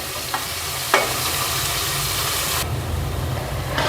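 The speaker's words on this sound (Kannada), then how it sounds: "ಇದನ್ನು ಸ್ವಲ್ಪ ಫ್ರೈ ಮಾಡಿಕೊಂಡು ಟೊಮೊಟೊನ ಆ್ಯಡ್ ಮಾಡ್ಕೋಬೇಕು" Onions fry in a pan for avarekalu gravy, giving a steady, close sizzle that fills the whole stretch, with a couple of brief scrapes of stirring and no talking.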